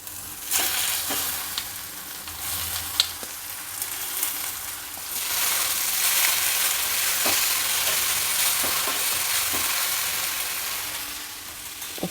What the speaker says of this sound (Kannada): ಈಗ ಬೇಯಿಸಿಟ್ಕೊಂಡಿರೋ ಹೀರೆಕಾಯಿ ಬೇಳೆ ಮಿಶ್ರಣನ ಇದರಲ್ಲಿ ಸೇರಿಸ್ತಾ ಇದ್ದೀನಿ